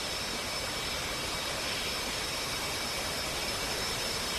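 An F-18 jet engine in the DCS flight simulator roars as a steady, loud, unbroken whine that holds level throughout with no other sounds.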